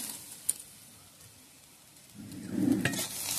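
Chopped onion fries in a pan with ginger and garlic paste, a faint sizzle that swells louder near the end as the mix is stirred, after a single sharp clink.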